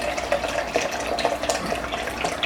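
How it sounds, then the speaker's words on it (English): Chicken broth poured from a container over cornbread dressing, a steady close trickling, splashing stream of liquid with small bubbling accents throughout, no talk. "going to take 8 cups of chicken broth and we're going to pour it over"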